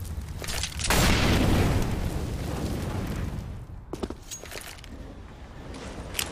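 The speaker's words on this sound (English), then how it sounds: "Incendiary! Throwing fire!" An incendiary grenade in the video game CS:GO bursts into a loud, sustained roaring whoosh of fire lasting a few seconds, then fades under scattered footstep-like taps and small pops.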